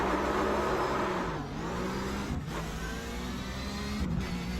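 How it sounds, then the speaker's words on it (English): A race car engine in the iRacing sim holds at full throttle, then the clutch drops for a launch, a steady loud engine drone with pitch dips and rises as it pulls away. "then you do your normal full throttle and then drop the clutch."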